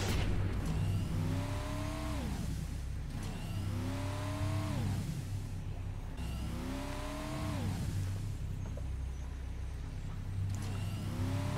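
Hot Streak's car engine in Skylanders: SuperChargers, fitted with blaze boosters and blue fire tires, revving loudly in four rising, falling bursts over a steady low drone, with no talking.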